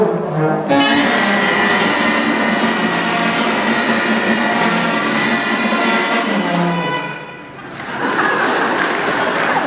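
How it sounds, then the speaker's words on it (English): A sixth-grade middle school beginner band blares its first sustained, wavering, out-of-tune wind instrument notes together, loud and close, dipping briefly before a ragged restart. "produce the first sound on their instruments. It sounded something like this"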